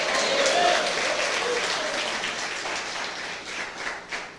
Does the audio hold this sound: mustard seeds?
no